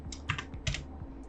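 Typing commands for Rhino 3D modeling on a computer keyboard, a short run of close, crisp key clicks in quick uneven bursts with no talking.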